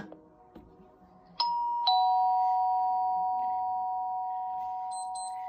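An In Tune MP3 doorbell plays its default chime after a button click: two clear, ringing ding-dong tones that sustain and slowly fade, loud and close, with a faint higher chirp near the end.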